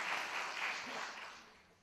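Light audience applause at a film Q&A, a soft, short patter that fades out within two seconds, faint and somewhat distant.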